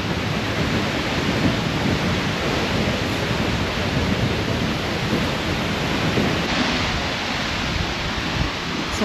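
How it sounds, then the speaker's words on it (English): An Icelandic waterfall, heard from a rocky path beside it, gives a steady, loud, broadband roar that fills the whole stretch without a break and with no voices. "So we're kind of on the side of the waterfall right now."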